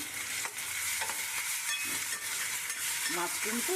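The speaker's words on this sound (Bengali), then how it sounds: "একটু সামান্য কাঁচা জিরের গুঁড়ো দেব, এই যে হাফ চামচ দিয়ে একটু নাড়াচাড়া করি।" Mushrooms sizzle gently in a pan with cumin powder as a spoon stirs and scrapes through them, a soft steady fry with a few louder scraping strokes near the end.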